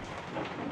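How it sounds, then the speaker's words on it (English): A brief, dense wash of rain with a low thunder rumble comes from outside in the horror video game Outlast, steady and moderately loud with no voices. "It's raining outside."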